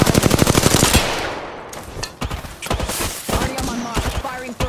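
Light-weapon gunfire in Apex Legends: a rapid loud automatic burst up front, then scattered sharp single shots and short bursts.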